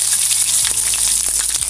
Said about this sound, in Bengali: মিষ্টি জিরা না চিকন জিরা ফোড়ন দিলাম। তারপর রসুন।